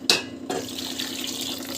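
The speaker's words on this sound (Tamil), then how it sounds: "தண்ணி வந்து தேவையான அளவுக்கு வந்து தண்ணி விட்டுக்கலாம்" Water is poured into a pan of cooking vegetables: a brief splash, then a steady close pouring hiss with no talk.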